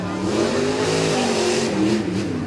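A rough truck racing car accelerates around a dirt course at a 2015 Tuscarawas County event, its engine roaring loud and steady with a rising rev and some tire noise, no talking heard.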